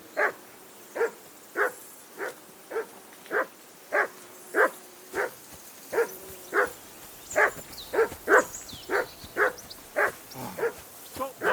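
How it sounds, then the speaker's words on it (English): A dog barking in the video game Kingdom Come Deliverance 2, a steady string of evenly spaced barks, about twenty in a row, growing slightly louder over time, with voices speaking faintly in the background. "Jesus, Henry, that barking's driving me nuts. Can you get your dog to shut its beak?"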